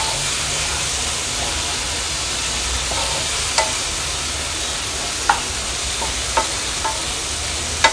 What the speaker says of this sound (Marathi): मीडियम फ्लेमवर ह्याला छान परतून घेते